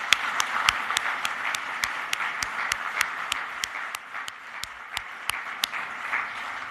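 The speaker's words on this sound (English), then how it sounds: "So let's give another round of applause" Sparse, scattered claps at a Canadian Club speaking event, individual sharp hand claps sounding every half second or so over a steady murmur of room noise, thin and moderately quiet rather than a full ovation.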